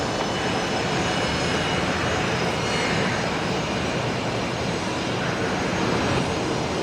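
A Fokker 70 airliner arriving at Brisbane Airport at night, its engines giving a steady, moderately distant whine and rumble that holds evenly through the whole stretch.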